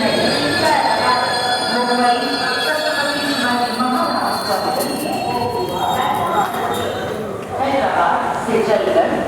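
The Mumbai–Hyderabad Superfast Express, train 22732, pulls out of a platform at Kalaburagi Junction with steady rumbling, clanking and wheel squeal. Voices can be heard over the noise of the train.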